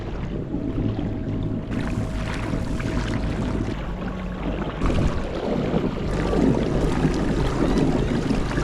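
A BigWater 132 fishing kayak cruises under an NK180 electric trolling motor, with steady water rush and wind buffeting the hull close up and a continuous low hum beneath.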